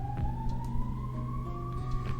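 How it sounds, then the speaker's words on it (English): An ambulance siren wails in the background, one long tone slowly rising in pitch over a low, continuous rumble. "If you're hearing something in the background, it's an ambulance."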